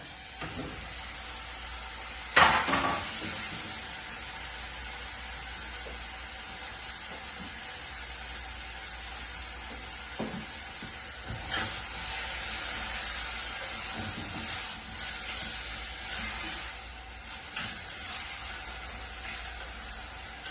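Onions fry in a pan for a mackerel fish curry, a steady close sizzle with a few stirring clatters and bumps over about twenty seconds, no talk.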